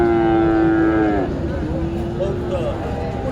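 A Friesian heifer at the Dakumara cattle market lows loudly and close, one long drawn-out moo with a falling pitch, over a busy crowd murmur.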